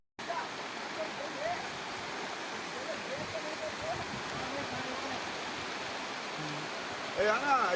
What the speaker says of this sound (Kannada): ಮಳೆ ಹೊಡಿತೈತೆ, ಭಾರಿ ಮಳೆ ಬರ್ತೈತೆ ನೋಡಿ